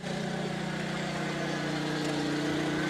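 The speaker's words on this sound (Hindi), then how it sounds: "इंजन का काम देखो आप, किस तरीके से जरा सी भी आवाज़ चेंज नहीं है।" A power tiller mini tractor with a weeder and a leveling board attached runs at a steady, unchanging engine drone. The sound is loud and continuous throughout, with no talk.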